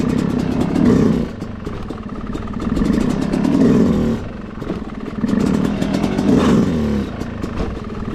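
A dirt bike engine revs loud and close during slow wheelie practice, its throttle rising and falling in repeated swells with a rough, clattering mechanical edge and no voices.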